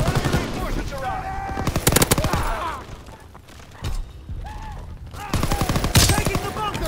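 Automatic weapons hammer out rapid bursts in a Call of Duty: WWII multiplayer battle, loud close volleys separated by brief lulls, with shouted voices in between.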